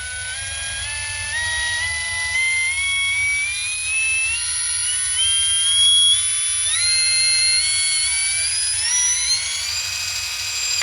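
A Blackzero cordless power drill whines steadily on its own, its motor pitch climbing in small steps as the speed is dialed up across the run.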